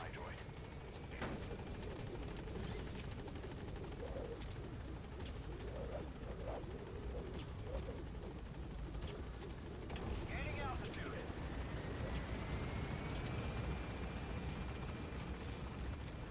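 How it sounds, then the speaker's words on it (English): A helicopter from the video game Metal Gear Solid V whirs steadily and fairly loud throughout, with mechanical clanks and clicks mixed in and a person talking over it. "Chopper's already here, so I want to call it back"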